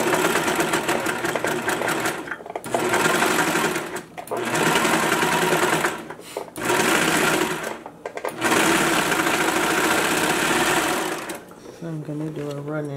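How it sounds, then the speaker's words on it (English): A serger overlock sewing machine finishes the raw inside edges of a swimsuit, running loud and close in several long bursts separated by short pauses, with a brief quieter stretch at the end. "So we're back over at the serger. We're going to finish the raw edges on the inside."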